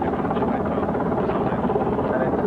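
Military helicopter at the 1987 North Weald fighter air show, its rotor and engine a steady, loud, unbroken drone that fills the whole stretch with little change in level.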